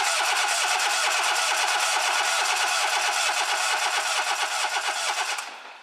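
A car engine cranking on the starter for a compression test, a steady fast rhythmic churn lasting several seconds before cutting off, loud and close with no talk.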